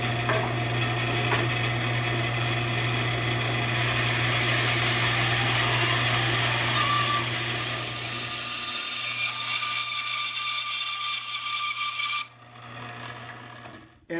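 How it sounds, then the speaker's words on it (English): A bandsaw resaws a rough cut walnut board, its steady motor hum and blade rasp running loud and continuous before the cut ends and the machine winds down alone near the end. "I'm going to do a resaw on this rough cut piece of walnut"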